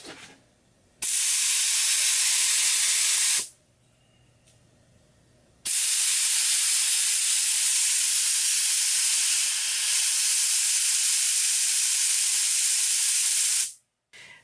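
A $10 HVLP spray gun spraying latex paint lets out loud, steady hissing bursts, a short one followed by a long continuous spray, with brief pauses between them and no talking.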